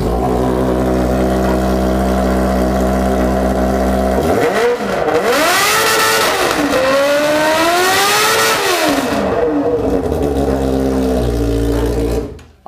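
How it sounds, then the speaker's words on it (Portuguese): A red metallic Honda Hornet motorcycle idles steadily, then its engine revs hard several times in rising and falling sweeps mid-clip before settling back to a loud, close idle and cutting off at the end. "lá nós já vamos ligar o hornetão aqui pro Ricardinho dar uma acelerada."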